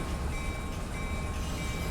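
Train rolling through the Waycross Tunnel in Run 8 Train Simulator, a dense, steady rumble with a faint high whine over it.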